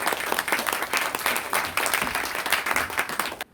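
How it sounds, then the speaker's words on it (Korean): A lecture audience gives warm, dense applause to welcome a speaker to the stage, with steady close clapping that stops abruptly. "정재석 강사님을 큰 박수로 맞이해주세요"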